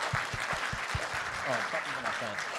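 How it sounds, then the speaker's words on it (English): A crowd applauds after a technical talk on Vulkan rendering with a steady wash of clapping, while a voice speaks over it near the start and another voice joins later. "Round of applause."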